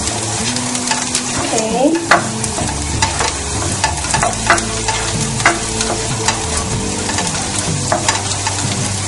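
Garlic sizzling in a hot pan while it is stirred, a steady loud fry with scraping spatula strokes and clinks, and one brief spoken word over it.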